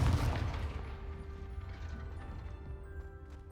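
Confringo blasting spell cast in Hogwarts Legacy, a heavy explosive burst at the start that fades into a rumbling, mechanical decay with a lingering low tone, no voices.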